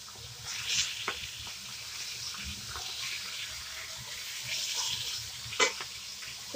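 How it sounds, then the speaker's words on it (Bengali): Pabda fish fry in oil in a pan held with its lid, a soft continuous sizzle with occasional clinks and a louder knock near the end. "এইভাবে ঢাকাটা ধরে আমি ভাজছি।"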